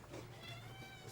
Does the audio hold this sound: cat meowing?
yes